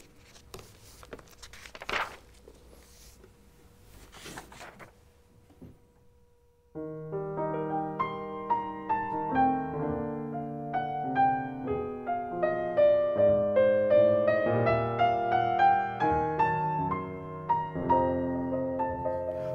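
Orchestral passage from Wagner's Tristan and Isolde, a lyrical motif swelling from soft to fuller strings and winds after several seconds of quiet rustling handling noise.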